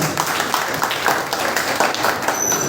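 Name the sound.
audience applause for Girija Prasad sir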